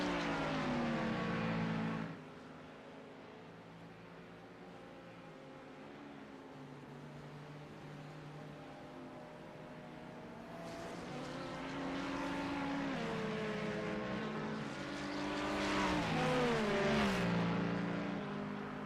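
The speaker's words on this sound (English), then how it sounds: "God, that Mustang sounds good." Ford Mustang race car circling Silverstone Circuit in an endurance race, heard as a throaty engine drone that dips low, then swells and revs up again, moderately distant and alone.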